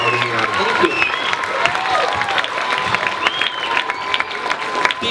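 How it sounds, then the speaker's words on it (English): An audience at an elementary school stage performance claps together, a steady, dense wash of applause that holds for several seconds with no pauses. "how about a round of applause for Mr. Willits and our support crew out in the audience."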